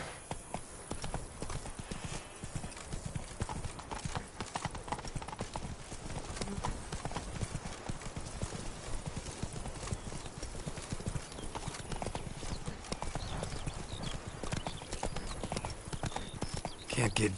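Roach, a horse in The Witcher 3, gallops with a steady clip-clop of hooves across the whole stretch, fairly faint, while game characters speak over the hoofbeats.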